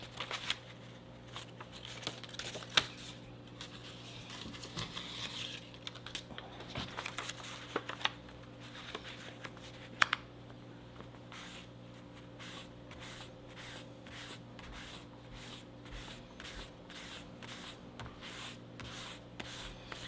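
Fine-grit sandpaper rubbed over the blade of a mini Nessmuk bush knife in cross-hatching strokes, faint and close, with quick regular scratching passes toward the end.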